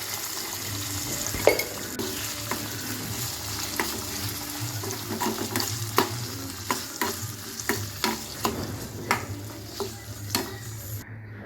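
Ingredients for ginger chutney sizzle steadily in a hot pan on the stove, close up, while a spoon scrapes and clinks against the pan in irregular strokes as the mixture is stirred.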